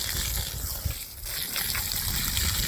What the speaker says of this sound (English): we're gonna soak this hole up real good with water